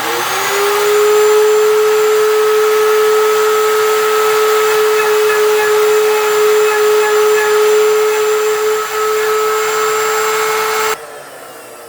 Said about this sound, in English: So now I'm going to bring the router bit up a little bit and do a second pass